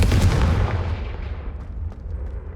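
A Confringo fire curse from the Hogwarts Legacy video game lands with a loud, close, booming blast, with a heavy low rumble that fades over about two seconds, and no talking.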